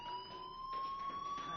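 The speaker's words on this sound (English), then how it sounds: "Hey, do you hear that fire alarm?" A fire alarm sounds inside a school in the video game Life is Strange, a steady high electronic tone with a fainter harmonic above it, holding continuously and fairly quiet, as if heard from down a hallway.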